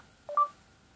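A short electronic two-tone beep serves as the vibration prompt in a tutorial app, a brief clear chirp standing alone against near silence.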